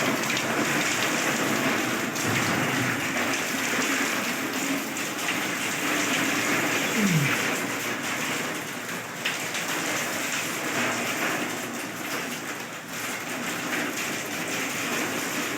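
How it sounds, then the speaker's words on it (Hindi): Heavy rain pours steadily at a market in Samani Valley, Kashmir, a dense continuous hiss of drops on surfaces, with a low rumble underneath and no voices. "नाल देखो कितनी स्पीड में बारिश हो रही है।"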